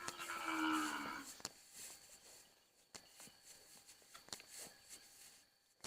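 One long, low moo from a cow in a beef fattening pen with a newborn calf, close and clear for about a second, followed by quiet scuffs and footsteps with faint insects behind.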